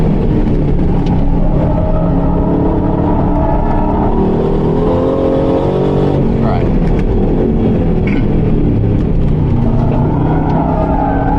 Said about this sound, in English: Wheel spin for days.